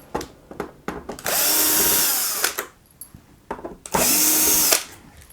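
A power driver with a T9 bit backs out green screws from an Xbox One S, two sustained high whirring bursts close by, separated by clicks and handling noises.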